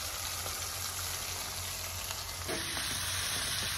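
Vegetables sizzle steadily in a hot pan for Filipino ginisang ampalaya, a close, continuous hiss that swells slightly louder partway through with faint stirring clatter.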